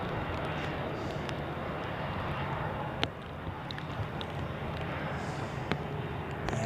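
An airliner rotates and climbs away from Zurich Airport on a gusty crosswind day, its engine roar a steady, broad rumble that holds constant with no voices.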